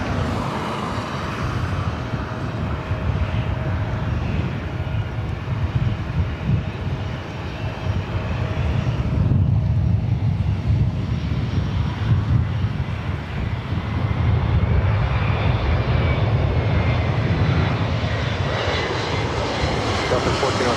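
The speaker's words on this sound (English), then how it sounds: "our next arrival is Delta Connection SkyWest Flight 4099 coming in from Reno, Nevada. It's an E175." A SkyWest Embraer E175 jet arriving at LAX roars past, a broad loud engine rumble swelling midway and holding, with a faint tonal whine and radio voices underneath.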